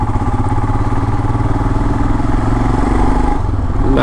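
A Royal Enfield motorcycle on a long highway ride, its engine thumping in a steady, loud, continuous low drone with slight rises in pitch, heard up close from the rider's position.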